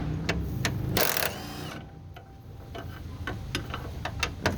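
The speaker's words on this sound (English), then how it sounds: "for the bracket, use the same 14 socket with an extension this time" Ratcheting socket wrench with a 14 socket and extension working on bracket bolts for a 370Z bash bar on an Infiniti G37S, giving repeated sharp ticking clicks in short bursts, close and moderately loud, with a brief louder rustle near the start.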